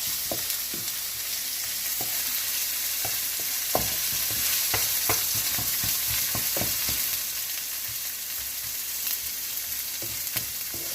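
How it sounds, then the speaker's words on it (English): Onions frying in oil with cumin seeds, a constant close hiss of sizzling with irregular clicks and scrapes from stirring, no voices. "brown the onions a bit"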